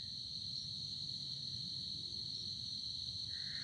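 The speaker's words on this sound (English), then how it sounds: "Listen to those crickets making their beautiful sound during the nighttime." Crickets chirp outdoors on a warm, dark night, a steady high-pitched continuous trill over a faint low background rumble, quiet and unbroken with no talking.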